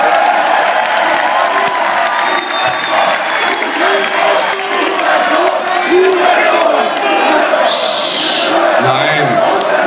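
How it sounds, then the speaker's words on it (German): A concert crowd applauds and cheers loudly and steadily throughout, with whoops and shouts rising over the dense clapping and some voices mixed in. "Applaus."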